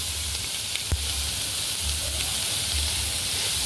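Fresh chili and curry paste sizzle with pork belly in a hot pan, giving a steady frying hiss with a sharp clatter of the spatula near the start and soft stirring scrapes.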